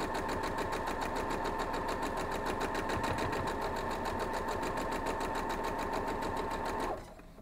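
A sewing machine stitches a quilt block in one steady, rapid run, loud and close, then stops abruptly near the end.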